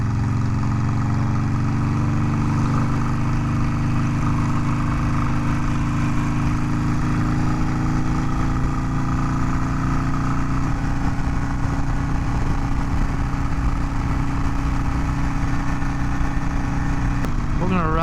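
A 2020 Harley-Davidson Sportster motorcycle engine runs steadily while riding, with a loud, continuous low rumble and wind noise that hold throughout, and a brief shift in pitch near the end.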